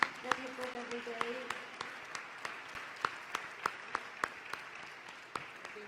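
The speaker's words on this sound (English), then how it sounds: "for the teachers who are here, a big round of applause, please." Audience applause for teachers at a school gala, a moderate round of clapping with a few sharper near claps standing out, with a voice talking faintly underneath early on.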